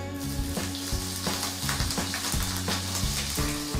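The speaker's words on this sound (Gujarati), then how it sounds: "હવે તેમાં 2 નંગ લીલા સમારેલા મરચાં નાખીશું" Chopped green chillies dropped into hot oil with toasted cumin seeds sizzle loudly and steadily, with light stirring clatter through a short stretch of close frying sound while cooking sago khichdi.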